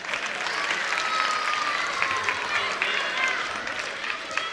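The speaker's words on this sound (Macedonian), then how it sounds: "Аплауз за сите нив." Audience applause at a children's song festival: dense, steady clapping from a full crowd, loud and continuous throughout with no pauses.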